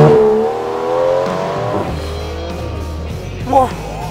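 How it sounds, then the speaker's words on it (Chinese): An Aston Martin DBS Superleggera's V12 engine roars loudly up close, its tone winding down from high revs before settling into a deep idle, then flaring briefly with a short burst of throttle near the end. "你再踩两脚油门，"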